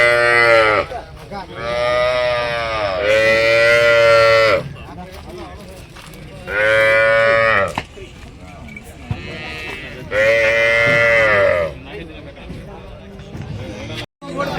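Cows low loudly in repeated long moos at a morning cattle market in Ranebennur, several calls rising and falling one after another, close by, with people talking in the background.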